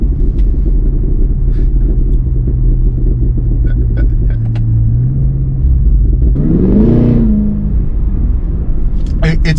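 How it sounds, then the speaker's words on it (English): A 2024 Cadillac Escalade V engine rumbles loudly at idle, then revs up in a rising and falling surge, with sharp crackling pops and burbles scattered around it, heard close from inside. "it kind of unlocks the ability to really get the engine super loud with all the insane pops, burbles that this thing can do"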